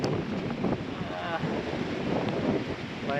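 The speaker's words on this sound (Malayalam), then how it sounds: "ഭയങ്കര കാറ്റാണ് ഇവിടെ" Strong wind buffets the microphone during a bus safari in Bandipur tiger reserve forest, a constant close rushing roar with voices partly underneath.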